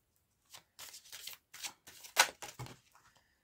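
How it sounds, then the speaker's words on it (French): A deck of playing cards being shuffled by hand in several quick riffling bursts with short pauses between, close and fairly quiet, with no talking. "Je vais brasser un peu"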